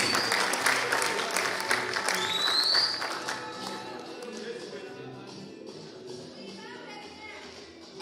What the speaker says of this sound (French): est-ce que nous pouvons applaudir fortement pour mettre la scène?